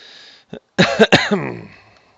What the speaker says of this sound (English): Classic cough.